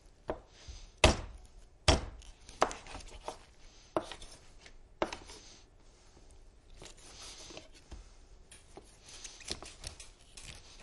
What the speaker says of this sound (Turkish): tavuğun fazla uzun kemiklerini kesiyorum